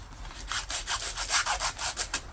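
Sandpaper rubbed by hand on a Kawasaki ER6F motorcycle part, a rhythmic scratchy rasp of repeated back-and-forth strokes, close and steady.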